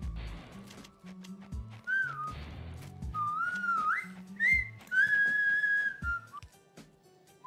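Someone whistles a slow, wandering tune in clear, steady notes over a low, rhythmic musical backing.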